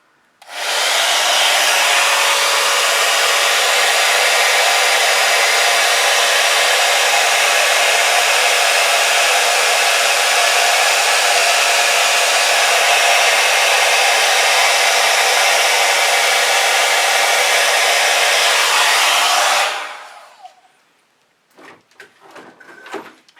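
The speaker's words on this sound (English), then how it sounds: "I want to pull out my blow dryer." A blow dryer roars loudly and steadily for about twenty seconds while drying fluid acrylic paint, then cuts off, followed by a few soft clicks and knocks.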